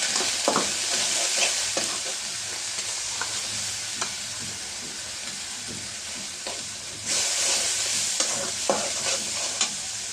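Mashed dried fish paste with turmeric powder sizzles steadily in a hot pan, with repeated scraping and stirring strokes of a spatula over a constant frying hiss, loud and close with no voices.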